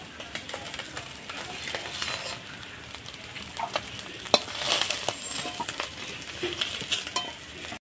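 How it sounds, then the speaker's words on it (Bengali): Native catfish (singhi and magur) frying in a pan, a continuous close sizzle with crackles and scattered clicks of stirring throughout, with faint speech underneath. "মাছ ভাজা হয়ে গেছে, এখন আমি নামিয়ে নেব"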